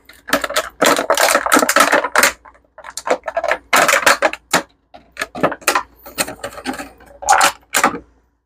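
Fallout 3-inch mini figures being popped out of plastic blister packaging from the back, a burst of sharp crinkling clicks and crackles in clustered runs with short pauses between.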